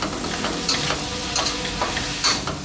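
Fermented pork sausage with chili and spring onion is stir-fried in a hot pan, a steady close sizzle broken by a few quick scraping strokes of the spatula, with no voices.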